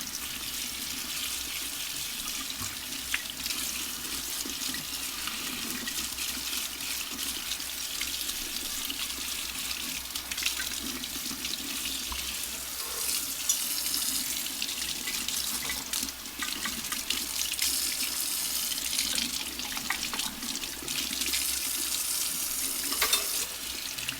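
A tap runs steadily into a sink as a part of a 1920s Coleman L228 slant lantern is rinsed clean after a citric acid bath. The close, continuous rush of water shifts slightly as the part moves under the stream.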